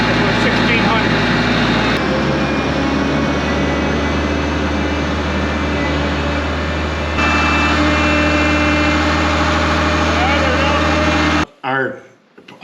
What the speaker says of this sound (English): Mark, if you could rev it up to about 1600